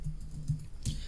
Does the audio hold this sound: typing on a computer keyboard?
yes